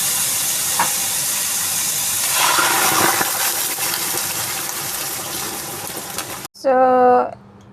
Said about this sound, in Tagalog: lagyan po natin siya ng mainit na tubig